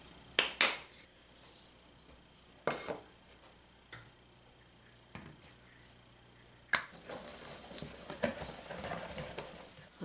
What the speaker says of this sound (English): Let's mix the flour, brown sugar, nutmeg, and cinnamon together in a bowl